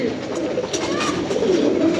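Pigeons in a pigeon loft cooing softly and steadily over a constant low background hum.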